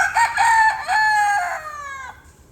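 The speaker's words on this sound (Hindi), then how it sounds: "ये हेंस भी हमारे पास है।" A black hen in a backyard gives a loud, drawn-out call up close, breaking into a throaty squawk that trails off, with no voices present.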